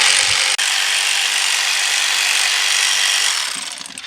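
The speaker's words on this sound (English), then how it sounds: "Okay, we got 3 bolts out." A power tool runs continuously while bolts come out of a Ford engine during a timing belt and oil pump job, a loud steady whirring drone that holds for about three seconds before tapering off.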